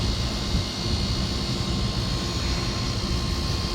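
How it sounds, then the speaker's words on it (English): A Lennox rooftop HVAC unit runs with its VFD-driven blower motor, a loud, steady broadband roar of rushing air with a low rumble and a faint constant hum, unchanging throughout. "So this unit has a VFD drive for blower motor."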